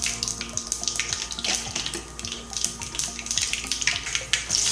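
Mustard seeds, urad dal, broken urad dal and chana dal sizzle in hot oil for a potato masala, a dense steady hiss of frying with small crackles and pops throughout.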